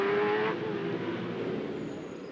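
A Holden Commodore V8 supercar races at Winton Raceway in a 2006 championship round, a loud engine note fading and dropping in pitch as it pulls away.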